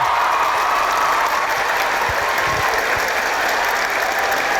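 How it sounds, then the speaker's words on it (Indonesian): Sustained applause from a TV talk-show studio audience greeting guest Thorik Halilintar, a dense steady clatter of many hands filling the whole stretch with no voices over it. "Kita berikan aplaus untuk Thorik Halilintar"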